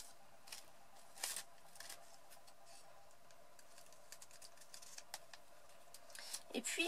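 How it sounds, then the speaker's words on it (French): Small scissors snip along the lower scalloped edge of paper lace for a paper dress craft, giving faint, scattered clicks and crisp cuts with a quiet hush between them. "on va également découper le long du feston du bas. Donc cette fois-ci avec des ciseaux plus petits."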